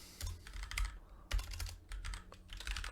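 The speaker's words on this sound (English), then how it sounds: "All I have to type is barrel bottom." A file name being typed on a computer keyboard, a quick run of close, crisp key clicks in an uneven rhythm with short pauses, quiet and alone.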